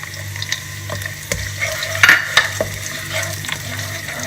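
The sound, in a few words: onions frying in a pan with chopped garlic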